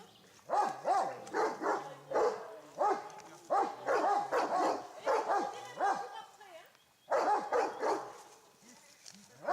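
Several dogs bark and yip in quick, overlapping bursts with whining between, fairly close, over a murmur of background noise.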